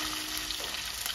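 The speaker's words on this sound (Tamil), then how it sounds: "இந்த நேரத்தில் இப்போ பச்சை மிளகாய் போடுறேன்." Green chillies fry in a pan of hot oil, giving a steady, dense sizzle that stays even and close throughout the short stretch, with no voices.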